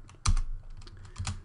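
A computer keyboard typed while entering shortcuts in 3D modelling software: a sharp first keystroke followed by a few lighter clicks in quick succession, close and clear, with no speech.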